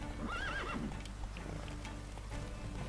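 A horse in The Witcher 3 lets out a loud, wavering whinny near the start, over a dense, rumbling game soundscape of battlefield ambience and clopping that continues steadily throughout.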